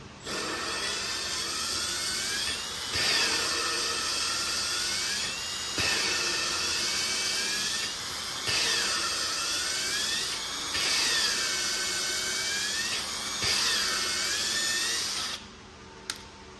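Steady high-pitched grinding whine as an LS cylinder head valve is lapped into its seat with lapping compound, in repeated passes of about three seconds each, with brief dips between strokes, close up and with no talking.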